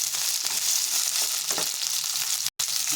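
Eggplant and other vegetables stir-fried in a pan, a steady broadband sizzle with faint scraping of the stirring, close and continuous apart from a brief cut near the end.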